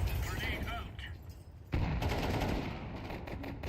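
Gunfire aimed at enemies in a video game deathmatch, a short burst of rapid shots that breaks off and then resumes louder with sharp crackling reports, under a muffled background.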